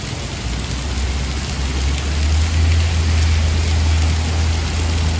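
Steady rain falls on a New York City street in Manhattan on a Wednesday night, a dense broadband hiss with a low rumble underneath, loud and continuous without voices.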